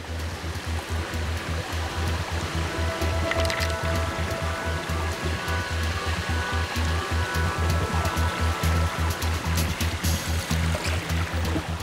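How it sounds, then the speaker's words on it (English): Enormous glacial river in Greenland rushing steadily, a loud, continuous roar of churning current close by, with no voices. "We're at the end of the world, on an enormous glacial river."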